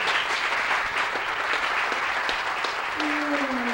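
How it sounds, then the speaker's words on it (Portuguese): A theatre audience applauds at a stage performance, a dense, steady wash of clapping lasting several seconds at even loudness, with a faint voice or whistle-like tone rising near the end. "Por favor, aplaudam a Josefina."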